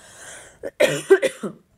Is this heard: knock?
no